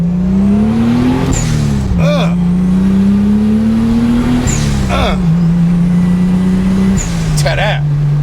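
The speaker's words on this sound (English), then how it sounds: "Got that blow-off valve working." A car engine revs hard through the gears in repeated pulls, each shift ending in a sharp hiss from a turbo blow-off valve, three bursts in all, loud and close with a steady engine drone between them.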